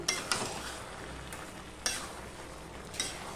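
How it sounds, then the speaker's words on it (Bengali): A spoon stirs vegetables and raw chickpeas in a pan, a few soft scraping strokes at intervals over a faint low sizzle. "এবারে এই সবজিটা সমস্তটা নেড়ে নিলাম।"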